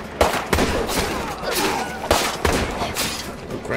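Gunfire in the zombie survival game State of Decay 2: a run of sharp, loud shots at irregular intervals over busy game noise, with a voice talking now and then.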